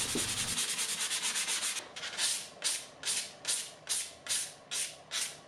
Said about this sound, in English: I'm going to use 400 grit sandpaper to clean it up.